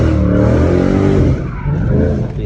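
A Chrysler 300C engine revs hard and close, a loud sustained roar that eases off slightly midway, with no talk.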